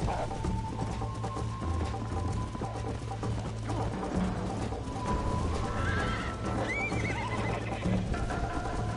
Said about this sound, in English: Stupid frickin' horse.